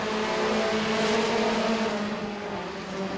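Mini stock race cars roar past together on a racing oval at Freedom Motorsports Park, a dense, loud, continuous drone of several engines at full throttle.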